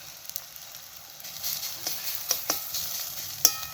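Garlic frying in a pan with spices while cooking chicken gizzards, a steady close sizzle with a few sharp crackles and pops and no talk.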